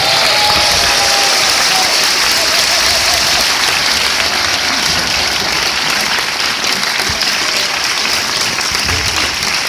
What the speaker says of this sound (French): je vous demande de faire une ovation à Monsieur Wim Wenders